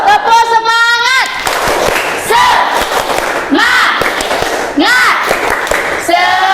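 A classroom of students shouts a rhythmic group chant punctuated by claps and thumps, loud and close, the voices rising in repeated bursts.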